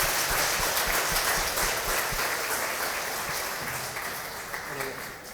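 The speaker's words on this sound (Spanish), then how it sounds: "Démosle un fuerte aplauso." A church congregation applauds during a Sunday service, a dense wash of clapping that fills the room and slowly tapers off, with a voice speaking faintly near the end.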